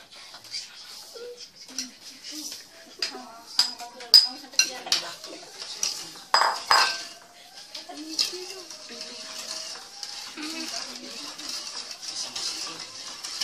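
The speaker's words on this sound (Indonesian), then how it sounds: "Aduk rata gula bersama air yang sedang dipanaskan." A spoon stirs sugar into heated water in a pot while making candied salak, giving repeated clinks and scrapes against metal at an uneven pace, close and moderately loud, with a voice speaking at times.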